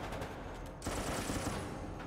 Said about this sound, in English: I'm still getting shot at